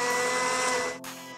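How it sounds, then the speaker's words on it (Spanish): A blender roars at high speed, a dense steady whir grinding cookies, then briefly drops in intensity before resuming. "Muele galletas en una licuadora."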